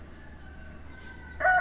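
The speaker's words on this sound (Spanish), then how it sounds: "Ahí conocerás mis gallos, los que escuchas aquí en este video." A rooster crows once, loud and close, breaking in abruptly right at the end after a steady low background hum.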